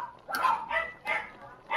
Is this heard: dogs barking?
yes